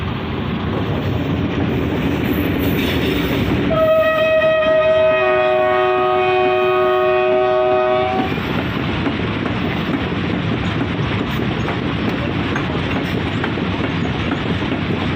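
A train passes a crossing in Pakistan near the Abdul Hakim interchange, with a loud, close, sustained horn blast lasting about four seconds over a continuous heavy rumble of wheels and cars.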